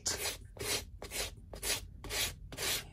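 A sanding block rubs back and forth over card stock for a handmade junk-journal card, six rhythmic, close, rasping strokes evenly spaced and alone.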